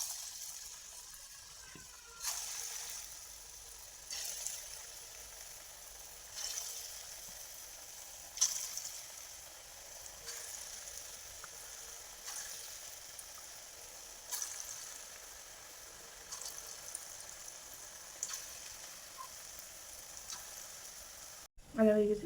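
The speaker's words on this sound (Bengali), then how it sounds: "তেল গরম হয়ে গেছে, বড়াগুলো ভেজে নেবো।" Lentil fritters (dal bora) frying in hot oil in a wok, a steady soft sizzle with faint bubbling that runs throughout, with a few louder swells every couple of seconds and a sharp clatter at the very end.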